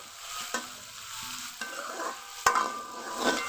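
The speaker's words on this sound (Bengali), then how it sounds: "সব কিছু একসাথে কিছুক্ষণ ভেজে নিব।" Chopped onion, ginger-garlic paste, tomato and green chili frying together in oil, a steady close sizzle broken by several sharp scrapes and clacks of a spatula stirring the pan.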